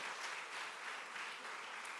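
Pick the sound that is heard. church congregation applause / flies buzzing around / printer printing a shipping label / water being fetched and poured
church congregation applause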